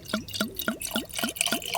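Liquid glugs out of a bottle in a steady series of about six gurgling pulses, close and clear, with no voices.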